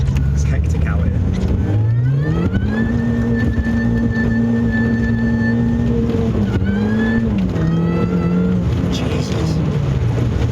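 An R53 Mini Cooper S fitted with a resonated Miltech catback exhaust accelerates through the gears, its engine note climbing, holding and climbing again, loud against heavy storm-wind noise.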